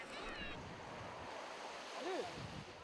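Sea waves wash against the Senegalese coast in a steady, broad roar of surf mixed with wind noise, loud and continuous throughout.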